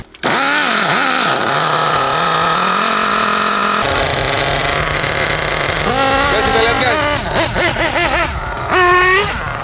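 A fast RC car engine screams at full throttle, high whining revs that sweep up and down in repeated bursts, briefly dropping out mid-run before climbing again, with people talking over it.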